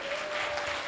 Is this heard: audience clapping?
yes